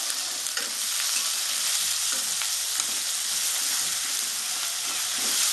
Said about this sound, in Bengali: পেঁয়াজটা একটু ভাজবো ভালো করে